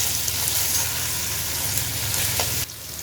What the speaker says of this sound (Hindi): इसको भी अच्छी तरह से भूनेंगे, चिकन को भी भूनेंगे 1-2 मिनट।